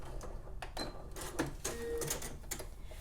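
A Bernina 38 sewing machine stitches along fabric in several short bursts, its needle clatter rising and pausing as the seam is finished and backstitched, close and fairly quiet.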